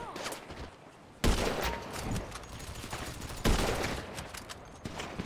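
Rapid bursts of gunfire in GTA 5, with sharp loud volleys and sustained automatic fire rattling through a busy game battle, several heavy bursts standing out.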